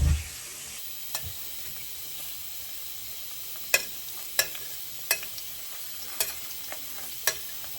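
Salmon croquettes fry in a pan with a steady hiss of sizzling oil and scattered sharp pops and crackles over several seconds, with no one speaking.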